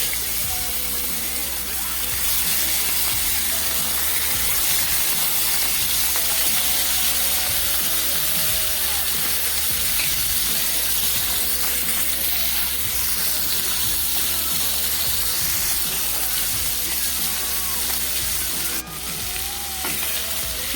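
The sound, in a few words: spice-marinated fish frying in hot oil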